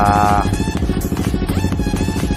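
A Yamaha XSR155 motorcycle engine being checked on a tune, revving hard to high RPM with a steady, loud, buzzing exhaust note that rises and falls slightly.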